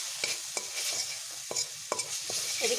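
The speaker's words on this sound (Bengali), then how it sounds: "এটাকে আমি বেশ ভালোভাবে কষিয়ে নিচ্ছি এইভাবে" Garlic and onion paste is stir-fried in a pan: a soft background sizzle broken by sharp, irregular scrapes and taps of a spatula every half second or so, close up, with no talking.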